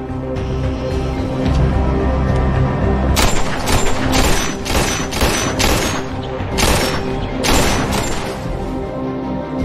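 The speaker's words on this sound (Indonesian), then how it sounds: "Jim pergi ke sebuah lokasi terpencil untuk berlatih menembak." Target shooting practice at a remote spot in a film produces a string of loud, close gunshots, about eight sharp cracks at irregular intervals over a low, rumbling soundtrack.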